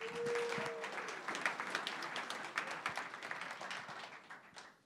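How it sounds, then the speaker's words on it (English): An audience at a startup pitch night applauds a presenter, a dense patter of many hands clapping at moderate distance that gradually thins and fades out over a few seconds. "Give him a round of applause"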